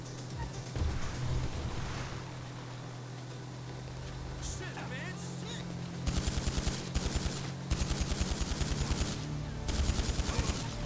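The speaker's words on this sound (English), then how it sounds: "That guy in the Hummer just decided to start shooting." A man in a Hummer fires at people in Grand Theft Auto V. After a quieter opening with scattered shots, rapid automatic bursts ring out loud and close in repeated volleys through the second half.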